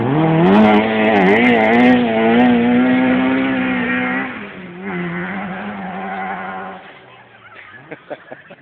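Opel Ascona rally car spinning off at a rally stage, engine revving high and wavering as it slides, then dropping away, with voices heard near the end.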